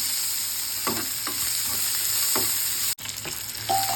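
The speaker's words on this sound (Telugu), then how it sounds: "ఆనియన్స్ వేసుకొని బాగా కలుపుకోవాలి. ఇవి కూడా బాగా ఫ్రై అవ్వాలండి." Onions fry in a pan for a Rayalaseema-style egg curry, with a steady close sizzle and a few scraping stir strokes.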